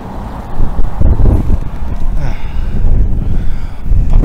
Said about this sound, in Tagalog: Lakas ang sandstorm.